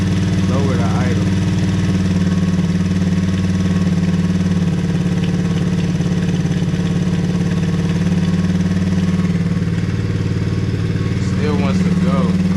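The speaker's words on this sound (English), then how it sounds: "We got the choke off. Still wants to run off a little bit. Let's see if we can lower the idle." A Hawk 110cc ATV engine idles steadily with the choke off, a loud, close, continuous putter that holds an even rhythm throughout, with brief voice-like chirps near the start and end.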